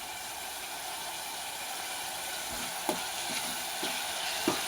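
Onion and garlic frying in a pan for a fire-roasted baingan bharta, a steady close hiss of oil with a few scraping stirs and light clicks of the spoon toward the end.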